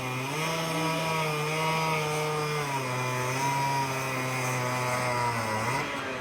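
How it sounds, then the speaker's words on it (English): Chainsaws felling trees: an engine whines loudly and continuously, its pitch dipping and rising as it bogs down and revs back up. "Hearing chainsaws,"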